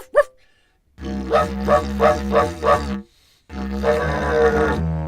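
A didgeridoo imitates dog sounds, a deep droning tone pulsed into a rhythmic run of bark-like bursts, then a sustained growling drone after a short pause.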